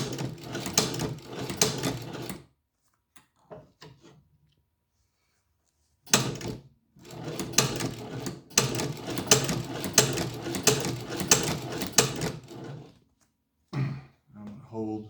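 A leather sewing machine, a Chinese-made shoe patcher, back-stitches a patch onto a motorcycle vest, sounding as two close bursts of rapid mechanical clatter split by a short pause and a few faint clicks.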